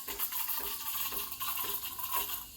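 Breville Barista Express BES870 steam wand hissing while frothing milk, a continuous bright close-up hiss with rhythmic pulsing surges and no talk.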